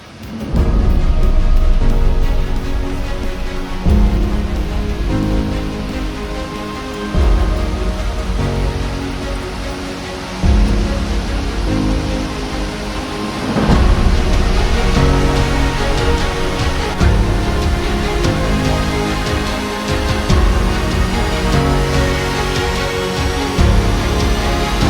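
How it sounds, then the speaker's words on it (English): Rushing water from Paulina Falls, a twin waterfall near Paulina Lake in Oregon, a loud steady roar approached on foot with some brief bumps and handling noises. "I'm just about to walk up to the waterfall. It's getting louder."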